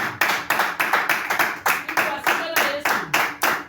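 A church congregation at a Friday evening service claps together in a strong, regular rhythm, about fifteen sharp beats in under four seconds, loud and close, with faint voices underneath.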